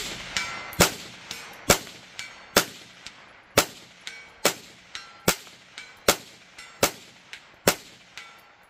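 Rifle shots fired with a Feyachi M40 3x magnifier ring out in a steady series of about a dozen sharp reports spaced roughly a second apart, each followed by a short ringing decay, moderately distant and alone.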